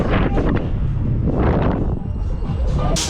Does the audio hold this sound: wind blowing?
yes